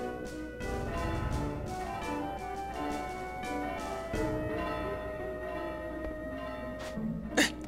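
A bell rings within Final Fantasy IX game audio, layered over sustained musical tones and chiming partials, with a brighter struck accent near the end.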